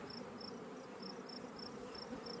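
Honeybees at an opened beehive, a faint continuous low buzz with a soft repeating high-pitched whine pulsing above it.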